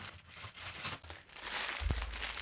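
A plastic bag of mounting parts packed with a Zalman I4 TG PC case crinkles and rustles as it is handled close by, getting louder and busier toward the end.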